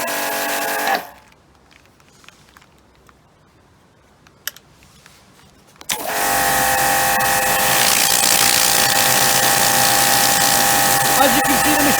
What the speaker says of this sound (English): So all we'll do now is run the turbo nozzle.